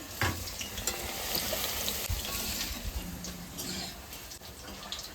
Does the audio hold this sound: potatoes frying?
yes